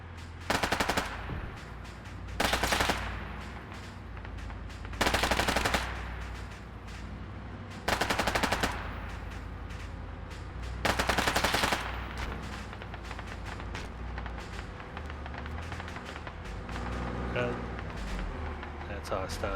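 Bursts of automatic gunfire hit a machine gun nest in the military shooter game ArmA 3, five loud rattling volleys at roughly regular intervals over a steady rumble, with lighter shots and voices between them.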